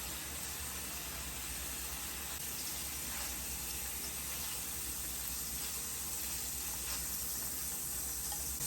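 A steady, even hiss of an empty hot pan sizzling on the stove after the shrimp is removed, continuous and fairly soft with no talk.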